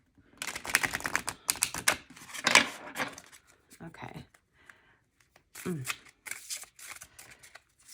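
Tarot cards are shuffled in quick riffling bursts, crisp and close, then a pause with softer handling and more shuffling, while someone speaks briefly.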